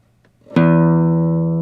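A single plucked guitar note rings out clearly after a faint rustle, sustaining and slowly fading.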